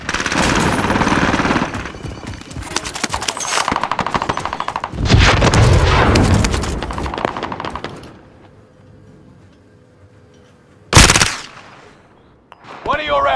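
Automatic gunfire in Call of Duty Warzone Rebirth Resurgence, loud rapid bursts with dense rattling over the first eight seconds, then a quieter stretch broken by one sharp close shot near the end.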